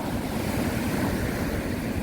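Sea waves wash steadily at Dongmyeong harbour in Korea at six in the morning, a broad continuous surf rush mixed with wind noise, fairly loud and close, with no talking.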